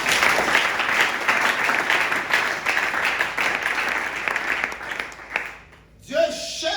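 A church congregation applauds in a steady, dense wash of clapping that holds for several seconds and then fades, with a voice coming in at the end.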